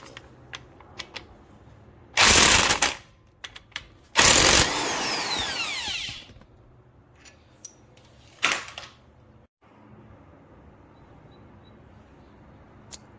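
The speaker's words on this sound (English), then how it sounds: "we're going to take off the CV axle nut right here. It's 13 millimeter" Two loud bursts of a power tool loosening a 13 mm CV axle nut during a passenger front CV axle replacement, each lasting a couple of seconds, followed by a shorter whir, with quiet clicks and handling noises in between.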